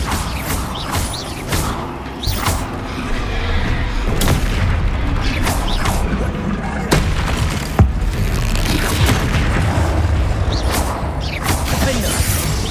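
Bombarda blasting spell cast repeatedly in the Hogwarts Legacy video game, a series of loud booming explosions with crashing debris over a dense, continuous battle din.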